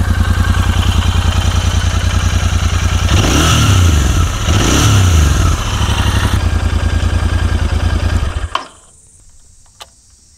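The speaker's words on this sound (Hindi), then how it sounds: "देखिए कितना प्यारी आवाज़ है। और अगर थोड़ा एक्सीलेटर दिया" A Royal Enfield Interceptor 650 motorcycle with two years and 21,000 km on it, its engine idling loudly close by, rising in a brief throttle rev in the middle, then cutting off abruptly near the end, leaving near silence.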